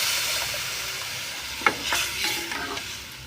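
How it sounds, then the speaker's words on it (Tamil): Tamarind water is added to a hot tempering of dried red chillies in a pan, producing a continuous close sizzle with a sharp burst and bubbling crackle partway through, no talking. "வரமிளகாவும் நல்லா வறுபட்டுட்டு இப்போ வந்து கரைச்சி வச்ச புளியை சேர்த்துக்கிறோம்."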